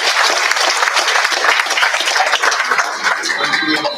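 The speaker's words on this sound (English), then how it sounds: "a super special one more round of applause for Mr. Mark." A crowd claps at a school graduation ceremony, loud and sustained, filling the hall for several seconds before starting to fade.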